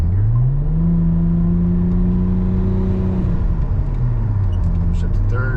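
A Buick GS Turbo accelerating in second gear, its engine revving loud and close with pitch climbing then dropping at a shift, someone speaking over it.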